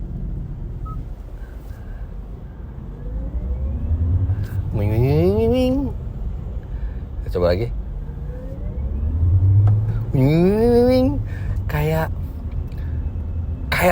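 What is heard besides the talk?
Kia EV6 artificial drive sound, cyber mode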